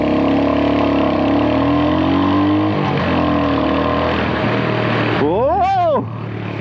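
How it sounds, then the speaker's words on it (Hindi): A Royal Enfield Hunter 350 motorcycle accelerates hard in first gear, its engine note loud and close and rising in pitch before an abrupt drop, with someone talking over it. "रोड प्रेजेंस के बाद ये बाइक भागनी भी चाहिए, भगा के देख लेते हैं। फर्स्ट गियर पे हूँ,"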